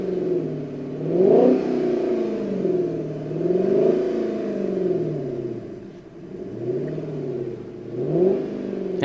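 A Dodge Charger SRT Hemi V8 with 425 horsepower and a Magnaflow exhaust revs repeatedly, each throttle blip rising and falling in a loud, close, deep rumble that keeps idling between pulls, with no voices.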